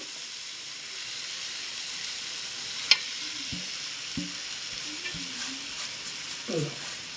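Squid curry with pepper and coriander powder sizzling steadily in a pan, with a few soft scraping knocks from a spoon stirring it, close and fairly quiet throughout.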